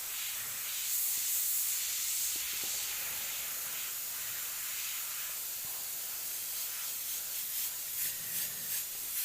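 An airbrush misting paint onto a grim reaper painting, giving a steady airy hiss of spray that runs continuously, close to the microphone with slight swells in intensity.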